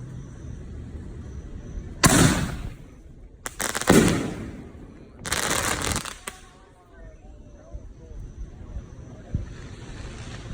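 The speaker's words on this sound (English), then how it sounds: "Shell number 5. Mines are beautiful in these shells" A 6-inch Alien Invasion canister shell by Supreme Fireworks goes off outdoors, with three loud booming bursts of mines a second or two apart, followed by fainter crackle and distant pops. Voices can be heard around the bursts.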